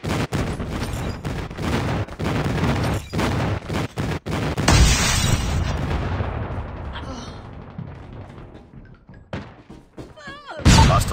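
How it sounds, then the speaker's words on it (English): Airstrike explosions in Call of Duty Mobile: heavy thuds and rolling artillery-like blasts mixed with bursts of gunfire, loud and repeated, tapering into rumble before a final sharp impact. "Enemy airstrike incoming."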